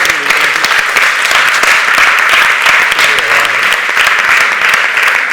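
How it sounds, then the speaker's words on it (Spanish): Audience applause at a conference session on cities in València, a dense, loud and even wash of many hands clapping for the full stretch with no pauses. "un aplauso para el trabajazo artístico que se está haciendo ahí detrás"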